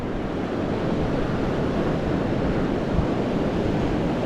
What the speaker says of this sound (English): Now that wind's getting cold.